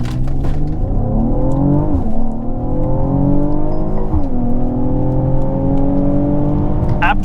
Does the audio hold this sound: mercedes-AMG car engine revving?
yes